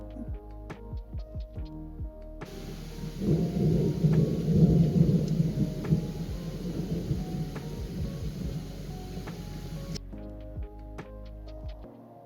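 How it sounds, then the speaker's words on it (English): Heavy thunder in a lightning storm at a feldspar and bismuth mine campsite: a loud, deep rumble breaks in, swells to a rolling peak, then fades slowly over several seconds, with faint rain around it. "Love that thunder sound."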